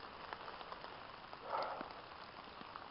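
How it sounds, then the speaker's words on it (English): Steady early-morning rain falls on a surface close by, a soft continuous patter with scattered drop hits and a brief heavier swell midway, with no voices. "it's been raining since before midnight at least"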